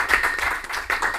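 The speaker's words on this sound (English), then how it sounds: "So I just want to give you all a round of applause just for that" Applause at a city council meeting, heard as a short burst of a few close, distinct handclaps in an uneven rhythm.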